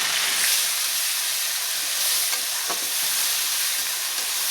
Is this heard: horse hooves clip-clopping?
no